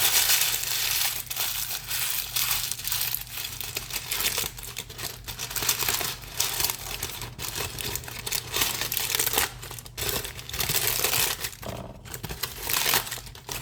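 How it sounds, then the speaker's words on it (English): Paper being crumpled to fit a pan, close to the microphone, a continuous loud crinkling and crackling that keeps going without pause and with no speech. "And then fold it back out, just halfway, and then crumple it back again."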